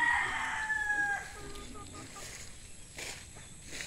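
A young rooster crows once near the start, a clear, fairly close call that fades into quiet farmyard background.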